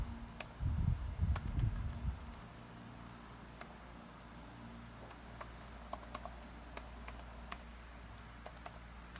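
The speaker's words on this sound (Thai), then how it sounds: "แล้วเราก็พิมพ์เข้าไปเลย" Typing on a computer keyboard while entering header text into a document. Sparse, light key clicks sound at an even pace after a brief louder bump at the start, against a quiet room hum with no speech.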